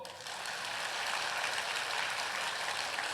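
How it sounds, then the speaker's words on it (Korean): A church congregation claps during a Sunday sermon, a dense, even wash of applause that holds steady for a few seconds at moderate distance without speech. "박수!"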